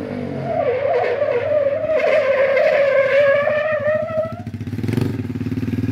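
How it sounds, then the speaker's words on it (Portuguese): A moped revs hard during a brake test, its engine whine holding steady and loud before cutting into an abrupt braking skid with a rough, scraping tire rumble near the end. "E o Russo quer ver se o freio do Russo tá bom"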